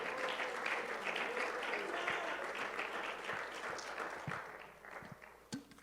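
A church congregation applauds in a sustained wash of clapping, moderately distant and fairly even, tapering off toward the end with a few sharper sounds.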